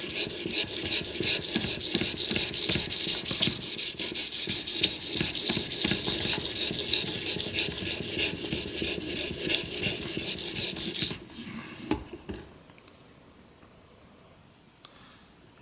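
A knife edge is drawn back and forth across an abrasive stone on an Edge Pro Apex sharpener in quick, steady rasping strokes, close and continuous for about eleven seconds before stopping, followed by a few faint clicks.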